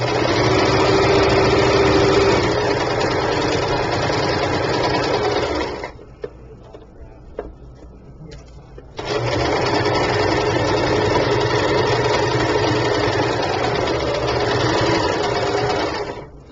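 Sewing machine running a quarter-inch seam on a handmade pillow, a close, loud, continuous motor hum lasting several seconds, a brief quiet pause, then another long steady run of stitching.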